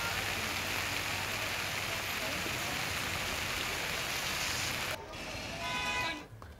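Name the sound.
heavy rain falling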